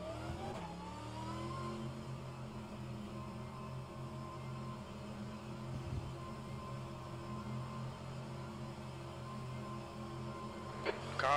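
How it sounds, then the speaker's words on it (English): Race car engine in rFactor 2 at Laguna Seca hums steadily, faint and distant, with a rising whine and rev just before the end as another car closes in. "Car approaching. Watch your mirrors."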